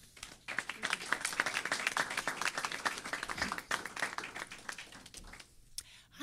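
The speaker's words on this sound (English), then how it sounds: "So a nice round of applause for Wendy Olnick." An audience at a live-streamed talk gives a warm round of applause, dense steady clapping from many hands that swells and then tapers off over several seconds, with some faint voices mixed in.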